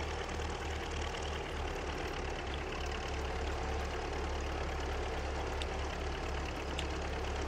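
An MTZ tractor engine idles steadily in Farming Simulator 22, a low continuous rumble with a faint knocking rhythm that stays even and close throughout, with no talk over it.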